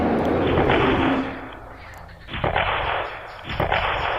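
A volley of seven rifles fires as a radio drama effect in a tale of an 1829 Okefenokee bigfoot attack: a loud, noisy roar gives way to two sharp, booming blasts with rumbling tails.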